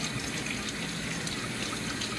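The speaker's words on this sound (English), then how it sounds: "give it a nice little rinse." Food being rinsed under running tap water while a charcuterie board is prepared, a steady close gush of water with no pauses and no talk.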